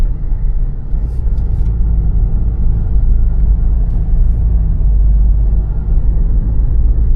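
Ford Mustang cruising on an open road, a steady low engine and road rumble filling the cabin continuously with no speech over it.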